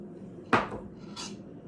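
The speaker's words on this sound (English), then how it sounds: "clean off the spoon" A metal spoon scraped and tapped against a mixing bowl while cleaning off sticky pizza dough, a sharp clink followed by a second lighter knock, close and clear with no talking.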